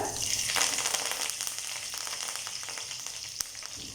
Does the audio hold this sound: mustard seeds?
yes